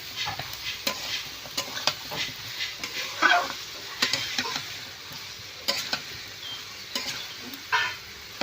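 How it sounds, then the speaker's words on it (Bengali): Chopped bottle gourd is stirred into a cooked spice paste in a pan for a fish-head lau ghonto, with soft sizzling underneath and irregular scraping knocks of the spatula that repeat every second or so. "কেটে রাখা লাউটা আমি দিয়ে দেব। দিয়ে ভালো করে নাড়াচাড়া করে নিতে হবে।"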